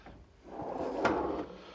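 A drawer on a 52-inch stainless steel toolbox slides open or shut once, a short close metallic rolling rasp that swells and fades over about a second, with no voices.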